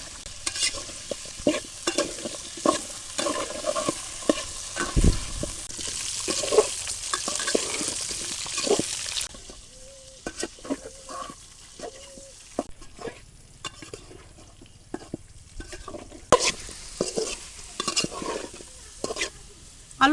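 Sliced potatoes fry in hot oil for an egg dish, with a steady sizzle and repeated scraping and stirring strokes from the pan. The frying is loud at first, then quieter with sharper intermittent stirring clatters.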